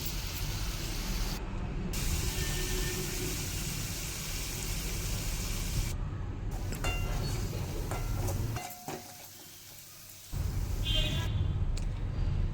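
A spoonful of ginger garlic paste sizzles with onions in a hot pan while frying for a chicken gravy. A dense, steady hiss carries on close and loud, dips for a moment, then returns.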